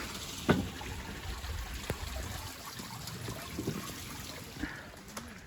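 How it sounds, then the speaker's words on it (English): Flowing water in Vintgar Gorge, Slovenia, trickles and babbles softly and steadily in the countryside, with occasional small splashes and faint outdoor background around the quiet stream. "Sound of flowing water."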